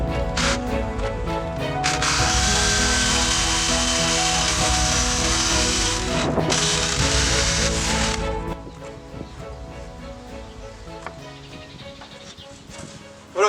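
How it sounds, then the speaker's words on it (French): A power drill bores at an angle through a thick house wall toward a garage, a loud grinding whine that runs steadily for about eight seconds before stopping, followed by quieter shuffling and handling noises. "Donc si je veux tomber ici dans le garage, il faut que je perce en biais."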